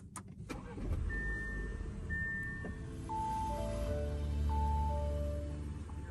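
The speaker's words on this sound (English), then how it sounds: "press the button down here to start." A 2023 Audi A6 push-button start brings a low engine rumble that settles into a smooth idle, with several electronic chimes and tones from the cabin sounding over it, heard from inside the car.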